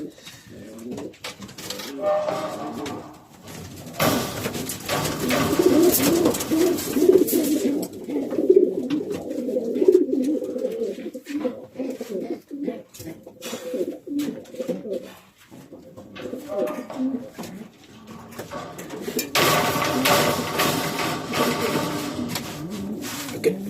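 Racing pigeons cooing repeatedly in soft, throaty bursts, close by, with rustling and shuffling noises in between.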